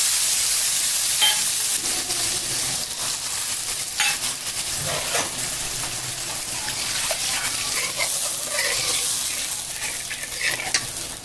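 Chili powder and cumin paste fry in a pan for a Bengali fish curry, a steady close sizzle with scattered stirring scrapes and clicks running the whole time, no voices.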